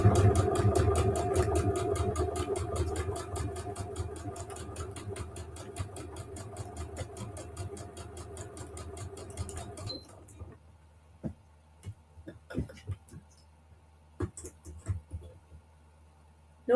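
A sewing machine back-stitches to close the opening on an infinity scarf, running in a fast, even, steady whir for about ten seconds before stopping, followed by a few faint handling clicks.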